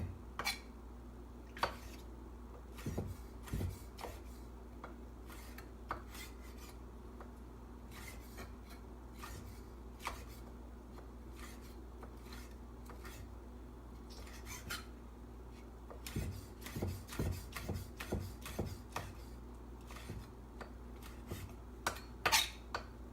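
A knife slices cherry peppers thin on a cutting board, with sparse, quiet taps and scrapes spread unevenly across a calm kitchen and a brief flurry of cuts near the end.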